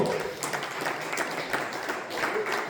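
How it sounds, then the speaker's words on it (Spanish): Church congregation applauding during a Spanish-language sermon, a steady, moderately loud wash of clapping hands that fills the room without pause. "Santo Jesús, denle un aplauso fuerte al Hijo de Dios."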